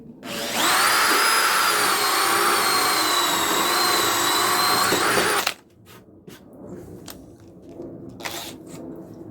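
A water pump runs loudly and steadily for about five seconds, pumping water out of a hole, with a high, even motor whine before it cuts off abruptly, leaving quieter outdoor rustling and a few scattered knocks.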